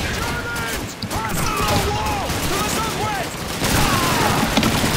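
Gunfire from the World War II shooter Call of Duty 2 crackles in dense, continuous bursts across the whole stretch, mixed with game noise while players talk over it.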